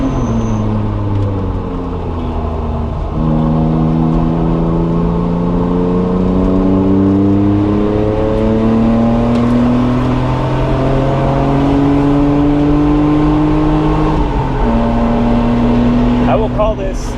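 A BMW E36 M3 sedan's engine drones loudly on a race track, rising through repeated upshifts with pitch climbing then dropping between gears, steady and close throughout.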